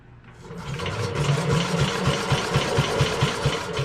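Old WW2-era engine running in a workshop, a fast, even mechanical chugging pulse that builds up at the start and then holds steady at moderate volume with no talk, while the throttle or choke control is pressed.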